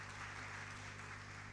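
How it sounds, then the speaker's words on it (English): Faint, even applause from an audience fills a youth empowerment summit hall, a steady soft wash of many hands clapping at a distance with a low hum beneath. "Let's give her a round of applause."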